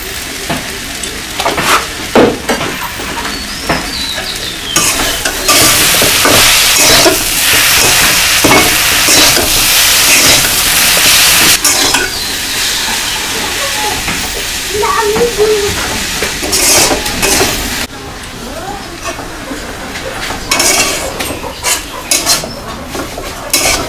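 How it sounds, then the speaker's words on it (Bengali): Jute greens (pat shak) frying in a pan, loud close sizzling with frequent scraping of a utensil against the pan and metallic clatter, steady and continuous. "শাকটা ভাজা ভাজা করে নিছি"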